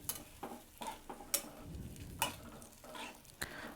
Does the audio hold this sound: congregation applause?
no